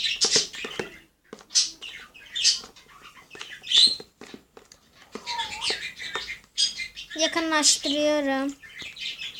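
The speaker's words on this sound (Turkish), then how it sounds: "bu arada kuşun fazla ötüyor, kusurumuza bakmayın" A pet bird chirps in short, bright bursts scattered through the clip, heard indoors at home during a slime-making session, with a person talking close by over the calls.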